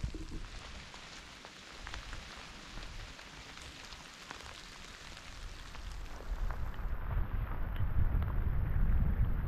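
Icy rain falling on a rocky mountain summit at Hoye Crest, Maryland's highest point, a steady hiss of drops mixed with gusty wind buffeting the microphone that grows louder and rumbles toward the end.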